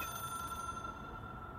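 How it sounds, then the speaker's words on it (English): A steady, faint tone from a phone sustains alone against a low background hum, with no voices. "It is a phone."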